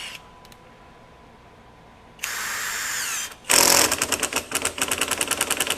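Kobalt 24V brushless impact driver in self-tap mode driving into wood: a brief motor whir, then rapid loud hammering impacts in a fast rhythmic burst, close up with no talking.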